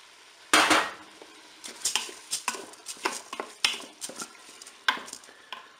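Dry rice grains pour into a Cookeo multicooker pot with a sharp rattling rush, followed by a series of scraping, clinking stirs against the metal bowl, close and fairly loud with no talking.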